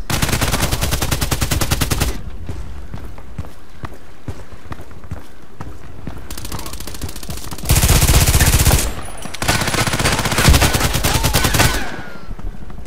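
Rapid bursts of automatic weapon fire in the Contract Wars shooter, with loud sustained volleys at the start and again in the second half, separated by quieter stretches of footsteps and movement.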